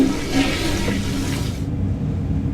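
Toilet flushing from a Skibidi Toilet animation, a steady rushing water wash lasting a couple of seconds with the high hiss cutting off near the end.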